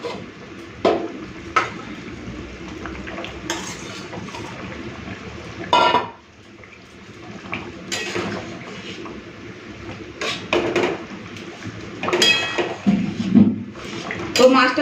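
Fried rohu fish pieces go into a pot of simmering fish curry with boiled potatoes, bringing close-up clinks and clatters of utensil against pot in scattered bursts over a low kitchen background.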